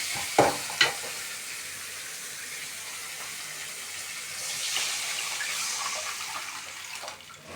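A tamarind and chili mixture poured into a pan of frying tomatoes for fish curry: two sharp splashes early on, then a steady hiss of sizzling and bubbling that swells and holds to the end.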